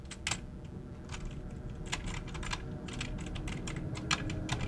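Rapid typing on a computer keyboard, close by, with irregular bursts of key clicks and short pauses, and no talking.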